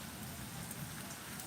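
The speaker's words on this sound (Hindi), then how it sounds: "और ये देखिए, बाहर बारिश हो रही है, बहुत अच्छी बारिश हो रही है" Rain falling outside, a soft, even hiss of drops on surfaces heard faintly and continuously from indoors, with no talk over it.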